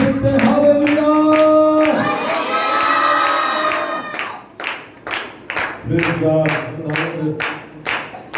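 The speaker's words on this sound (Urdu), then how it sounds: "آئے زور سے تالی بجائیں گے اور خداوند کی شکر گزاری کریں گے." A church congregation at a Pakistani sermon cheers and shouts loudly, then breaks into rhythmic, forceful group clapping in a steady beat, close and lively.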